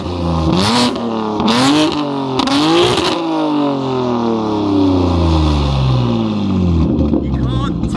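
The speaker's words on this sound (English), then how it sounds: "I'll give you a few revs just so you can hear how the car sounds" A BMW M4 engine revs three times in sharp bursts, then drops into a long, deep descending growl as it settles back down.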